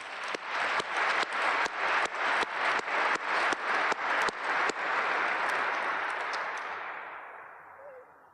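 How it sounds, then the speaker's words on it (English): An audience applauds at an F-35 Record of Decision ceremony in Alaska: a loud, dense wash of clapping holds steady for about five seconds, then gradually thins and fades away. "How about a round of applause?"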